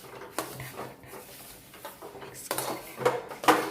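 Sesame seeds stirred into warm chikki mixture in a pan off the heat: quiet, irregular scrapes and knocks of a spoon against metal, getting louder toward the end.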